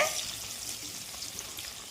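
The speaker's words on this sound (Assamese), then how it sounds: "মাছ ফ্ৰাই কৰি আছে" Fish sizzles steadily in a hot pan, a continuous close crackle of oil with no voices.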